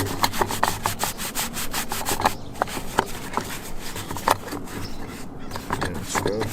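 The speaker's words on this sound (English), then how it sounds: "grab my little brush, start scrubbing away" A small brush scrubs grease off an old steering wheel in rapid, steady back-and-forth strokes, close and continuous throughout.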